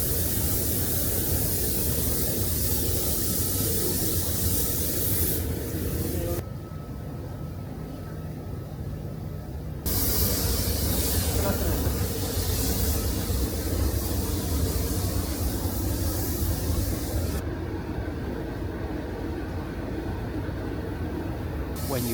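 Continuous hissing spray with a steady airy roar, stopping briefly twice before resuming, with no talking, as a Lamborghini is spray painted.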